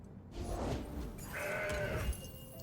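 A goat bleats in the Legends of Runeterra card game, one drawn-out wavering bleat over busy game music and effects, loud and upfront.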